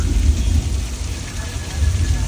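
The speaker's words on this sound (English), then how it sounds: "we'll have strobe lights and speakers that give you thunder and lightning" Simulated thunderstorm effect on a Universal Studios Hollywood backlot tour set at night, a steady low rumble with rain-like hiss played through speakers, continuous and loud for the whole moment.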